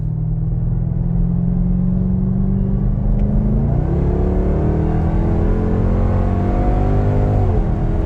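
A 2021 Dodge Durango SRT Hellcat engine hums steadily while driving, its rising tone climbing through gear changes with a deep, constant rumble.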